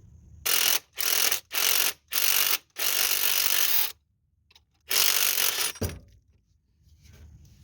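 A harmonic balancer puller is worked on a 1998 Toyota Sienna engine. Loud, close ratcheting bursts come in a quick run of five, then one longer burst, with short silences between and a metallic clunk near the end.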